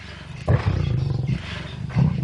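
Seven lions roar and growl while fighting over a freshly killed warthog, with deep, rumbling roars surging in a couple of loud bursts over a continuous low snarling, close by.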